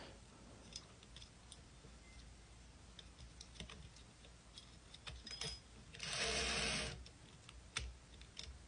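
A small plastic piece tumbles loose inside a Fisher Price Alpha Star toy and drops onto a table: faint scattered ticks and clicks, then a brief, louder clattering burst near the end.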